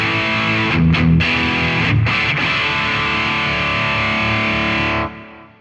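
Electric guitar through a Boss Katana amp with a scooped, metal-style distortion, loud sustained chords with a few brief stops before the sound cuts off near the end.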